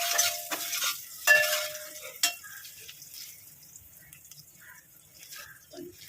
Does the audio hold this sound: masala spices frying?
yes